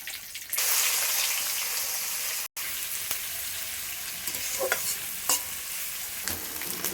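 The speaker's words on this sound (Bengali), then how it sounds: "দেখো আদা রসুনের পেস্ট দিয়ে আছে, পেঁয়াজটা ভাজা হয়ে গেছে লাল লাল করে।" Onions browning with ginger-garlic paste crackle and sizzle loudly in a pan for chicken curry, a dense close hiss broken by scraping stirs and brief clicks, with no talking.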